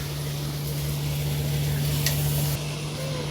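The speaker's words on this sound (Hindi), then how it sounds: "ये स्किन वाला चिकन मिक्स कर देते हैं और इसे फ्राई कर लेंगे अच्छे से।" Skin-on chicken frying in a kadhai, giving a steady, fairly loud broadband sizzle with a low constant hum underneath, continuous throughout with no talking.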